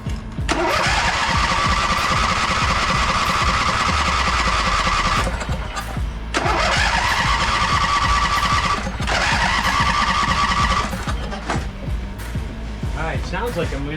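A Husqvarna lawn tractor, rebuilt after hurricane damage, cranks and starts several times. The engine runs loud and close in bursts that stall and restart, and there is talk over it.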